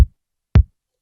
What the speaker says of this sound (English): So the kick drum by itself sounds like this.